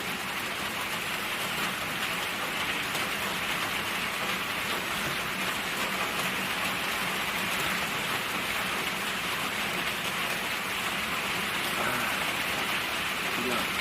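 Steady rain pours on a small forest hut, a dense continuous hiss at close range with someone talking over it.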